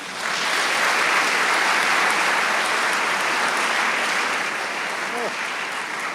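Steady applause fills a room after a Yom Kippur symposium talk, a thick wash of many hands clapping at close range. It holds evenly, and a voice briefly surfaces near the end.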